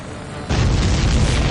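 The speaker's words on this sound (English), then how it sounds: "Did you see that explosion?" A sudden loud explosion in the video game Ace Combat 7: Skies Unknown bursts in and rumbles on as a heavy, sustained roar, with no voices.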